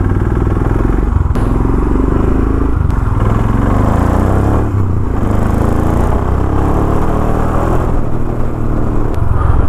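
Motorcycle riding along a road in India toward Dudhwa National Park, a steady loud engine rumble with wind buffeting throughout, continuous and close with no talking.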